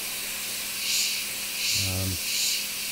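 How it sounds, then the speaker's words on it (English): An airbrush sprays paint in fine micro airbrushing work, producing soft repeated hissing puffs of air over a steady background hiss, with a brief low hum in the middle. "Now when you're micro airbrushing"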